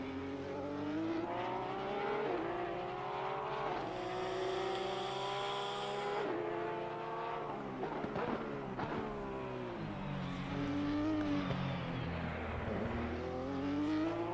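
Race cars lapping Donington in Assetto Corsa Competizione, a steady layered engine drone with shifting harmonic pitches as cars run continuously, a brief high whine partway through, loud and close throughout with no talk.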